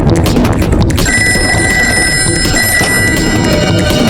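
In a cartoon scene, a telephone rings during a call with a loud, shrill electronic trill that starts a second in and keeps going, layered over busy clattering background noise.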